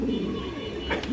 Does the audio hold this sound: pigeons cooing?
yes